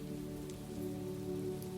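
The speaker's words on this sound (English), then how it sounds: "The rain kept falling, softer now, softer still, until even the droplets seemed sleepy." Soft, steady rain falls continuously with a faint, even patter of droplets and a low hum beneath, calm and unbroken with no voices.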